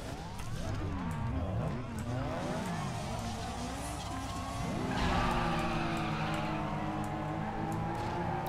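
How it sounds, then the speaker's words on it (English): Tires screeching as a car drifts through a track in the racing game Need for Speed Underground 2, with continuous engine roar and long wavering squeals that intensify midway, loud and close, while a voice talks underneath. "We're drifting today."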